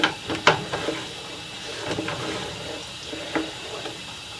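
Water runs down a sewer pipe toward the main about 92 feet in, a steady wet trickle with a few sharp splashes and knocks early on, fairly close and without talk.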